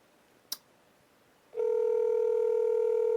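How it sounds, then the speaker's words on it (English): A telephone call being placed: a short click, then a steady, loud electronic ringback tone droning on without pause, with no voices. "And you hear me calling her."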